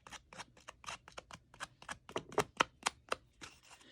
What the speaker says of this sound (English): I'm going to go around with my scissors because I really love the grungy edges